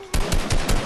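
Heavy gunfire in the video game Fortnite, a loud close burst of rapid repeated shots in quick succession, with no talking.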